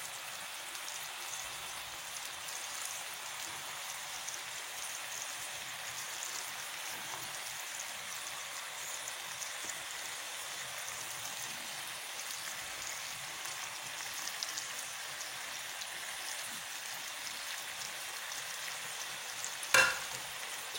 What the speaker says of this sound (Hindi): पानी जो मैंने डाला है थोड़ा बॉयल होने लगा